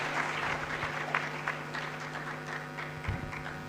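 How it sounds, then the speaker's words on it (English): An audience at a student event on the creative mind in the digital age applauds Honorable Ken Agyapong. The clapping is scattered and fairly faint, with a low steady hum beneath and a few sharper claps standing out. "Please, let's give a big round of applause to Honorable Ken Agyapong."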